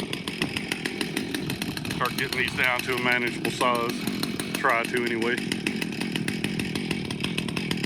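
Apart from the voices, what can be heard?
chainsaw running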